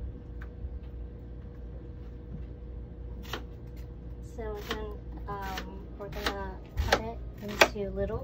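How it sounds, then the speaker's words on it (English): A knife chops an onion into small cubes on a board with soft, quick taps, while a person talks over the later part. "I'm gonna make my onion cubes a little bit smaller because I don't want a big chunk of onion in my mouth."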